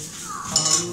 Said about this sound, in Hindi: चने डाल लिए